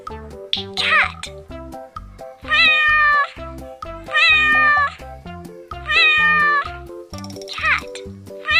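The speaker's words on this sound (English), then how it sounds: "Cat." A cat meows about five times in a regular sequence, each call clear and close, over a steady cheerful children's music accompaniment.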